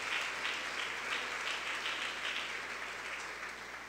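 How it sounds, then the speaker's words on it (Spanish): A church congregation applauds at a Sunday service, a steady wash of many hands clapping that fades slightly over a few seconds. "Denle un aplauso al Señor por esa hermosa palabra."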